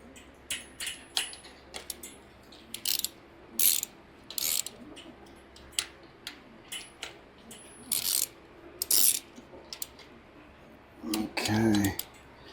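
A hand ratchet snugs up the bolts on a car transmission during a swap, giving short bursts of rapid clicking that start and stop repeatedly over several seconds, close by, with a brief louder clatter near the end.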